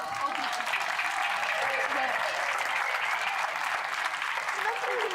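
At a Galician karate league grand final, the audience gives the master of ceremonies a dense, continuous round of applause that lasts the whole clip while a voice speaks over it.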